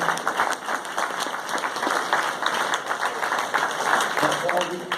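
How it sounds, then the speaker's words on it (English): Enthusiastic applause fills a cramped room at a local candidates debate in Saanich, a dense, continuous burst of many hands clapping at steady volume for the whole stretch. "Give a round of applause for them."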